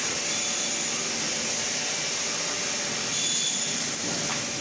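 Book binding machine running in a printing press shop in Karachi, a steady loud mechanical whir and rush with constant broadband noise throughout, no pauses.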